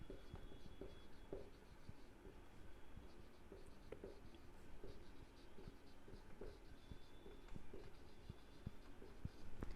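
A pen scratches across paper as an accounts entry is written out, producing faint, close, intermittent strokes over a quiet room hiss with no voice.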